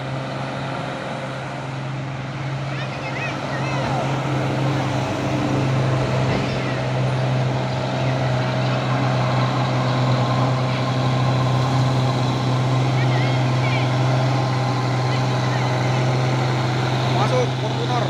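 A Mitsubishi Canter truck on the road, its engine a steady low drone heard from a following vehicle, continuous and moderately loud throughout with road noise around it.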